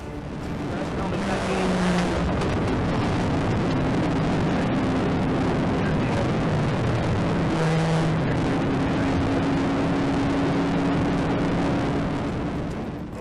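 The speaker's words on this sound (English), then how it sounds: "the Camaro accelerated and began to flee" Blue Chevrolet Camaro fleeing police, its engine roaring steadily under sustained acceleration with rising tonal whine, heard over continuous broadband road and wind rush from a following cruiser, with sirens faintly wavering in the mix.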